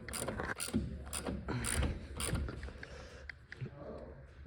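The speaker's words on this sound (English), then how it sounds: "we're bolting this sucker back on." Ratchet bolting a bumper back onto a 1,000+ hp Honda CRX, with bursts of quick metallic clicking and clattering handling noises at close range, coming in several short strokes with pauses between.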